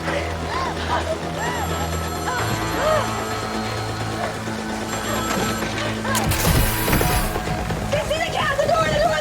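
Telephone ringing in an escape room video game, a repeated electronic ring heard under excited voices and game music, close and steady.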